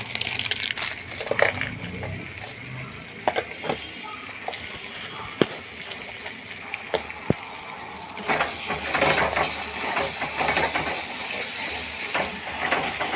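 Chana masala spices are stirred and fried in a pan, giving gritty scraping and scattered sharp clicks of the spoon against metal, close and moderately loud over a low background hiss.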